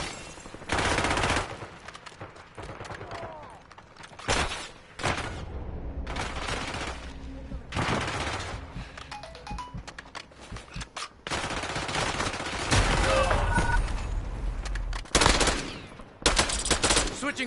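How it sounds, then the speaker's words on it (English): Rapid automatic gunfire in the Warzone video game, loud bursts of machine-gun and rifle fire coming in repeated volleys with short gaps, dense and close throughout. "I'm taking fire!"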